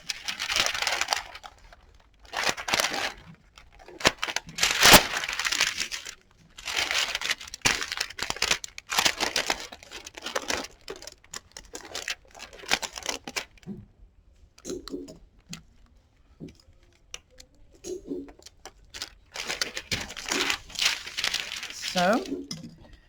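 Paper is handled and folded in repeated bursts of crinkling and creasing, with a person talking quietly in between.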